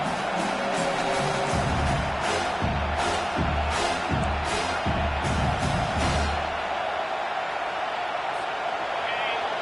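Home crowd in the NCAA 25 college football game roaring as the defense tries to get off the field on third down, a dense sustained stadium wash with rhythmic chanting pulses, fading toward the end.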